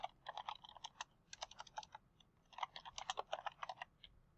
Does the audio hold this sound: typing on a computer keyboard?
yes